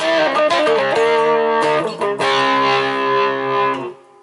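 An electric guitar plays chords through heavy distortion from a Zoom GFX5 multi-effects pedal, crunchy and sustained, with a few strums ringing out before fading at the end.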